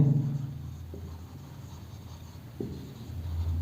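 Molecular mass of water is written on a board. Faint, soft scratching strokes are heard, with a couple of light taps and low room noise.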